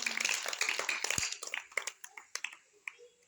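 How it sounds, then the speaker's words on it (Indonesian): A small group claps during a school physical education practice session, starting as a brief cluster of quick, soft claps and thinning into scattered single claps that fade out. "Oke, berikan tepuk tangan."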